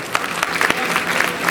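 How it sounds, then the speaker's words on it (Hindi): Audience applause at a public lecture and award ceremony, a brief burst of dense clapping from a hall crowd lasting under two seconds, fairly loud and steady with no clear talk over it. "जोरदार तालियों से अभिनंदन करें।"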